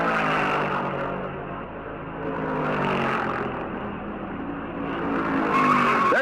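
A 1971 stock car slides at Darlington Raceway during the Southern 500, tires squealing in a long sustained screech over engine roar, loud and close, swelling and easing over several seconds without any talk.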